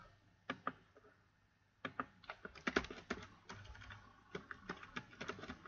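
A computer keyboard being typed on in quiet bursts of close, crisp key clicks, with irregular rhythm and short pauses as a database field name is entered.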